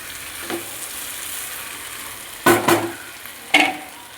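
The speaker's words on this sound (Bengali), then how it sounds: "এখন আমি আলুটা ঢেলে দিলাম। ভালো করে আমি মশলার সঙ্গে কষাতে থাকবো।" Potatoes being sautéed with spices in a pan, a low steady sizzle with a few sharp scraping stirs near the end.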